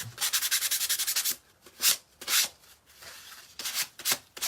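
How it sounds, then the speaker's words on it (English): Close hand sanding of a primitive pilgrim craft figure's hat: a quick run of rhythmic back-and-forth scrapes, then slower, separate rasping strokes with brief pauses between them. "Okay, sanding my hat."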